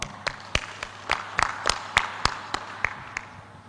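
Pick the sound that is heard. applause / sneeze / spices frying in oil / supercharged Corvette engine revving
applause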